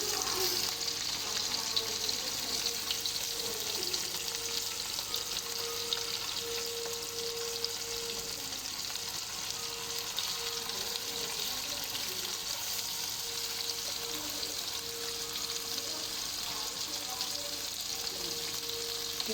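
Chicken Afghani boti pieces fry on a medium flame, giving a steady, moderate sizzle with a faint tonal hum and occasional clinks as the pieces are turned, continuing evenly throughout.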